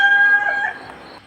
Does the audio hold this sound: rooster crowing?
yes